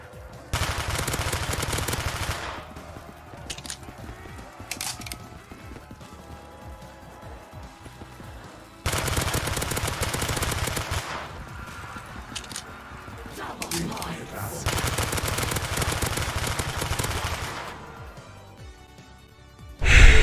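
Bursts of rapid gunfire from a weapon in Black Ops 3 custom Zombies on the Rainbow Road map, loud sustained volleys that start and stop in several long stretches with short lulls between, ending on a sharp loud hit.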